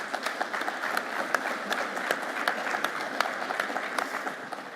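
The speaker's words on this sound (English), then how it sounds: "I think she deserves another round of applause" Warm, steady applause from a conference audience at the Irish Men's Sheds Association gathering, many hands clapping evenly with a few sharper individual claps standing out, sustained throughout.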